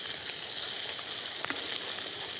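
Shrimp sizzling in a very hot frying pan for a saffron shrimp risotto, a steady bright crackling hiss that holds close and even throughout with no voices.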